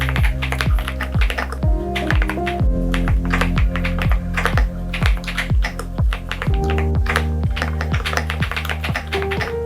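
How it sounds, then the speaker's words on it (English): Quick typing on a Boox Go 10.3 keyboard case used in portrait orientation, a close, crisp stream of key taps in irregular bursts with short pauses, alone with no speech. "I really like the idea of actually typing in portrait like this."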